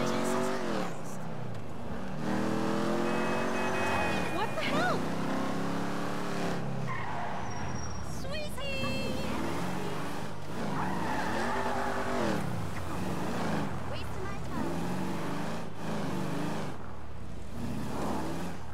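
Car driving in Grand Theft Auto V, with a steady engine drone and repeated tire skids and squeals across the stretch, loud and close, mixed with game voices talking.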